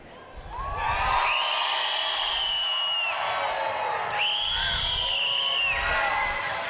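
A crowd at a FIRST Robotics alliance bracket match in Rochester, NY yells, whoops and cheers loudly for the Red Alliance, rising after a moment and holding steady with shrill shouts over a sustained roar.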